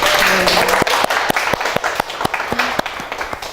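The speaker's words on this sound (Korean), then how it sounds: "박수로 맞아주십시오" An audience welcomes a speaker at a youth-space education talk with applause, a steady wash of clapping with several sharp, distinct claps standing out near the microphone, and brief voices underneath.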